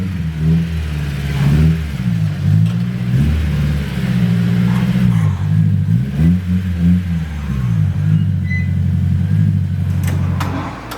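A modified Honda S2000 on the road, its engine droning loud and close inside the car, with a low throb that rises and dips through repeated throttle changes and gear shifts.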